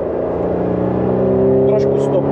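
A Toyota GT86 accelerates out of a corner on a track. The engine note rises steadily and sits loud and close over about two seconds, with a coaching voice talking over it.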